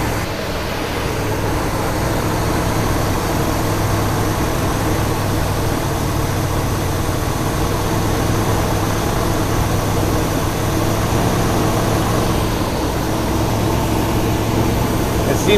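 A 1972 Buick GS Stage 1 engine idles steadily with a low, even rumble and no change in pace throughout, the only sound heard.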